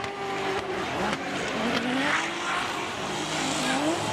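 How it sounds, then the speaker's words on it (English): BMW drift car from the TMS Racing Team Good Ride entry at a Formula Drift Japan track, engine howling and shifting pitch unevenly with tire squeal, heard somewhat distant beneath a commentator's voice. "And Yamashita, this car does not sound good"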